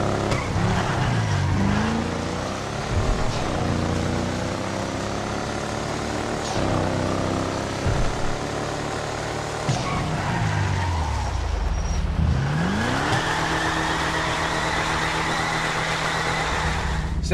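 An Albany Virgo muscle car engine in GTA 5 Online drives and shifts gears repeatedly, pitch climbing and dropping with each rev, loud and continuous with no talking.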